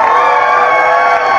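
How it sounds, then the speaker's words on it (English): A crowd at a rally for Palestine cheering and applauding, a brief, loud, sustained roar of many voices with no pauses. "Let's give them a round of applause."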